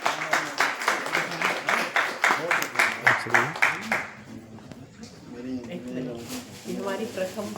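Rhythmic, loud clapping rings out at a local political gathering honoring women members, steady beats over a voice on a loudspeaker, then the claps thin and an amplified voice carries on alone.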